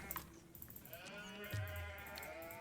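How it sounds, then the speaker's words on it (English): Sheep in a real-time strategy game bleat in a short, faint exchange of wavering cries, a few calls over a quiet background with no talk. "He found a few more sheep."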